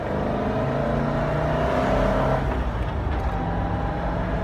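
1979 Range Rover with a four-speed gearbox accelerates in second gear, its engine droning loudly and climbing in pitch, heard from the cabin with road noise underneath.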